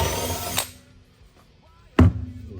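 A Milwaukee cordless power drill whirs briefly, stops, then kicks in again with a sharp loud start near the end.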